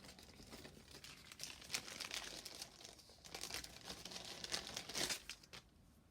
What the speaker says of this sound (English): So tear and tape just tears. That's what it's called, tear and tape. It just tears off.